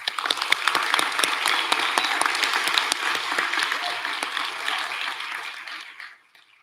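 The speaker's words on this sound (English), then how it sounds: "Can I go ahead and ask for us to give them a round of applause?" Sustained audience applause at an ACE graduation and awards ceremony, dense steady clapping from a crowd that carries for several seconds before tapering off into silence at the end.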